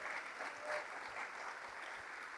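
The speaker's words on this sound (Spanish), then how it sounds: "Dele fuerte las palmas al bendito Señor." A church congregation claps together during an evangelical service, a faint, steady patter of many hands with slight swells in intensity.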